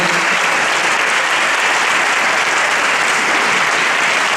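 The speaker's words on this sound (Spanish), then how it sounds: "un fort aplaudiment per un superesforç per estar avui així" Dense, steady audience applause fills a choir concert hall at a Christmas concert, loud and sustained from start to finish with no voices on top.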